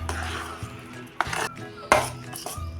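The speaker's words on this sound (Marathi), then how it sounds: "आता हा रवा आपण एकसारखा मिसळून घेऊया" Semolina being stirred evenly in a pan for syrup-soaked ladoos, with scattered metallic scrapes and clinks of a spoon against the pan over a low background rumble.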